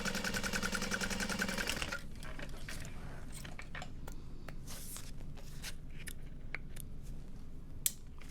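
Sewing machine running a burst of top stitching through the lining of a bowler bag, a steady fast whir for about two seconds followed by quiet handling clicks and rustles.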